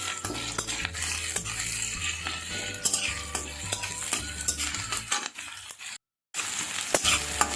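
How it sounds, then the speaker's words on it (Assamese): Onions for poha stirred while frying in a hot non-stick pan, a continuous sizzle with repeated spatula scrapes and light clinks of utensil on pan, broken by a brief total silence near the end. "এতিয়া ভালদৰে লৰাম"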